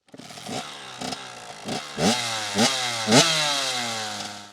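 A motorcycle engine is revved up from a start, several rising throttle blips climbing in pitch before settling into a steady, loud idle close by.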